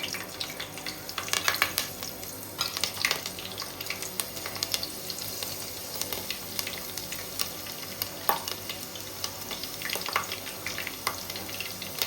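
Green chillies sizzle in hot oil in a pan, a close, steady frying crackle with frequent sharp pops and spits throughout.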